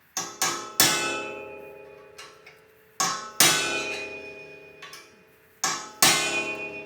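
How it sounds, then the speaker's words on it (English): A hammer strikes a center punch to dimple a cracked bike frame: sharp metallic taps in quick pairs and triples with short ringing decay, close and loud, nothing else heard. "I got my center punch. And we need to dimple it."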